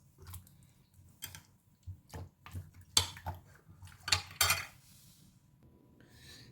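Chicken is mixed with masala marinade in a bowl, with scattered soft clicks, scrapes and squelchy rubs coming in irregular bursts, close and fairly quiet, with short pauses between.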